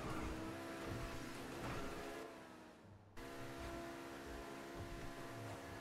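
Tempesta sports car engine in GTA 5 Online, a loud steady drone that holds at full speed, dips briefly and surges back, with no talk over it.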